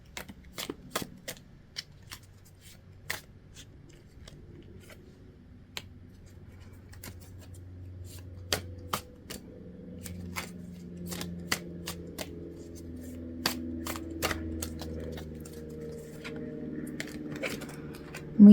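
Tarot cards are shuffled and drawn, giving scattered sharp flicks and soft slaps close by at an uneven pace, over a faint low hum and no speech.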